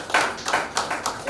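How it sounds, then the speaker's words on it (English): Scattered hand claps from a small group, uneven and moderately loud, tapering in and out over a short stretch. "Let's clap for the chamber now."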